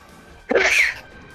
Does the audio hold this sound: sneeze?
yes